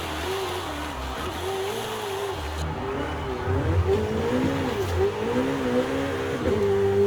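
Italian exotic car engine revving in Forza Horizon 5, a steady loud engine note rising and falling in pitch through several rev swells, with harmonics climbing under acceleration and no talk over it.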